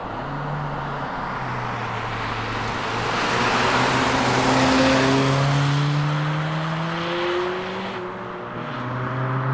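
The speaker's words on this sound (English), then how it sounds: "Let's go for a drive." A 2026 Honda Civic Si drives along with its engine droning steadily, pitch climbing through each gear and then dropping at the shift, with several rising pulls heard from close by and no talking.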